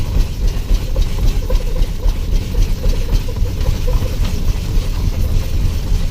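A 1906 Cadillac delivery van drives along a road, its old engine putting out a loud, steady low rumble with a rapid, uneven chugging pulse and rattling mechanical noise throughout.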